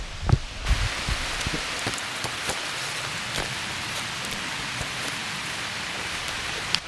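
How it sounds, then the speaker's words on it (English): Rain falls steadily on a wooded mountain bike singletrack, a dense, even patter with occasional louder drops striking nearby surfaces and leaves, with no voices. "Here comes the rain."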